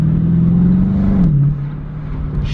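A 2021 Dodge Charger R/T V8 engine revs loudly and steadily up close, its low droning tone shifting and dropping partway through before settling, with no talk over it.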